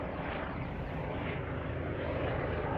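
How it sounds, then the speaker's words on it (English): A helicopter flies low near a forested mountain at Tiger Mountain, giving a steady distant rotor and engine drone that holds without break, with no talking. "Oh, it's a helicopter, I'm pretty sure."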